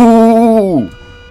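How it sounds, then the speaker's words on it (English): A steady electronic alarm tone sounds in the horror video game Visage, loud and close with a rich harmonic buzz. It holds level, then bends downward in pitch and cuts off, leaving a low hum. "Is there an alarm going off somewhere?"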